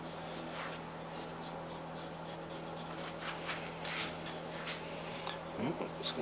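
A pen or pencil scratching steadily across paper during hand drawing, a soft continuous rasp with short strokes and faint rubbing, close up over a constant low electrical hum, with brief quiet voices.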